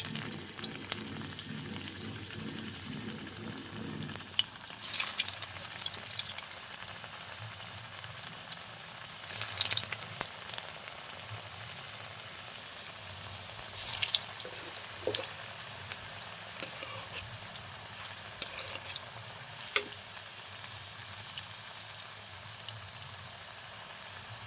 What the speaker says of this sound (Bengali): এইভাবে নেড়ে চেড়ে আমি ভেজে নেব।